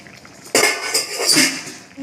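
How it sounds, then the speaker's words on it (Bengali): A metal lid comes off a cooking pot of ghugni made with goat fat, a sudden clink followed by a soft metallic scrape and hiss of released steam, close and fairly loud. "এবার ঢাকনাটা খুলব"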